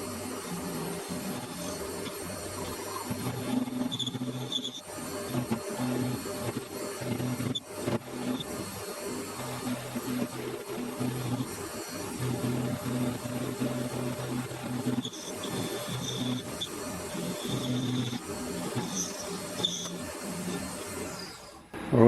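A lathe turns a small steel part for a model steam engine with a 0.8 radius cutting tip, a steady mechanical whir and faint cutting hiss running throughout with brief dips and no speech.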